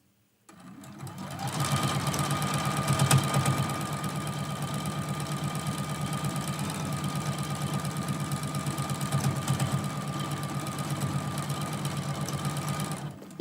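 A sewing machine runs steadily, stitching quilt seams on a Christmas quilt block, its fast mechanical chatter continuous and close with a slight surge near the start.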